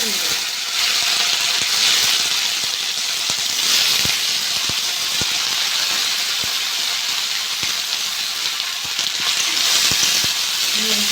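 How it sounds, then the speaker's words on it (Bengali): Whole cumin seeds and a dried red chili, split open, hiss in hot oil in a pan for a vegetarian Moglai paratha, making a loud, steady, close sizzle with a few faint ticks and pops throughout. "তেলটা গরম হয়ে গেছে আমি গোটা জিরে দিয়ে দেবো একটা শুকনো লঙ্কা চিড়ে দিয়ে দেবো"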